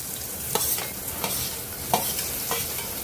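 Tomatoes are stirred into onions frying in a pan, a steady sizzle broken by a few sharp scraping stirs, close up and with no talking.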